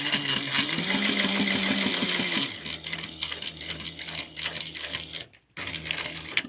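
A sewing machine stitches a clutch wallet in fast, steady mechanical bursts, running loud and close, then slowing briefly near a curve before resuming with a short pause.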